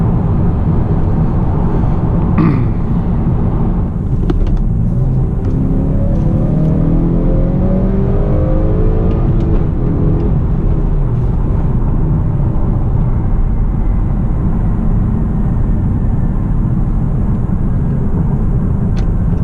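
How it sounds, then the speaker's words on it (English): A 2018 Honda Accord Sport with the 2.0-liter turbo engine and manual gearbox pulls under acceleration, a steady close engine drone with rising tone sweeps, continuous and loud throughout. "this 2-liter really pulls quite nicely"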